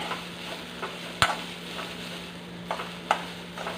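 Chilies and shallots roasting in a pan over a low flame give a faint, steady sizzle with a few soft scraping clicks from stirring, heard alone without voices.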